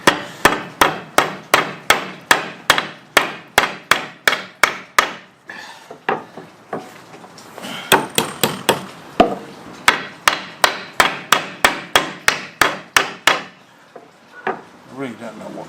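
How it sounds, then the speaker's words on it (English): A hammer drives nails into hardwood front-deck timber in fast, sharp, evenly spaced blows, close and loud, with a short pause partway before the strikes resume. "Now we probably can't nail that all the way in"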